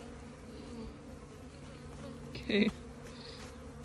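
Bees buzz around a new hive while a frame feeder is added, a continuous close humming drone with one louder burst as a bee passes near. A voice speaks briefly.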